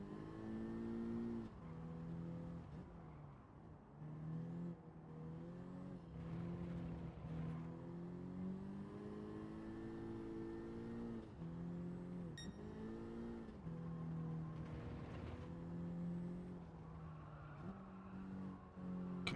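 Race car engine in Gran Turismo 7 roaring steadily, its pitch climbing and dropping through gear shifts as it accelerates, a continuous droning whine heard alone, fairly quiet, with no talk.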